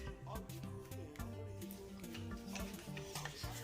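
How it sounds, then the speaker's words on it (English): Noodle salad being tossed in a bowl gives soft, irregular stirring and clinking under background music, faint and close. "now let's toss this"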